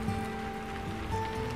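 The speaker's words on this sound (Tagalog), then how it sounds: "Malakas na ang ulan oh." Heavy rain pouring steadily onto surfaces, a dense, even hiss close by with no break and no voices.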